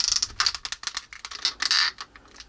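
Soft, uneven ratcheting joints of a FansToys Acoustic Blaster transforming robot toy click rapidly as the limbs are worked back and forth, in close clustered bursts without speech.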